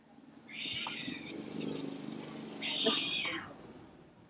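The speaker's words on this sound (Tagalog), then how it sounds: "Nakalinong pusa yung nagwawala." A cat yowls and meows wildly in two long, loud calls, one early and one near the end, over a steady low background hum.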